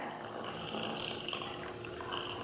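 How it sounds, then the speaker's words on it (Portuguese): Water is poured slowly into the centre of a pan of sugar to make caramel. The pour gives a soft, steady trickle that stays faint and close, with no speech over it. "Vamos colocar a água"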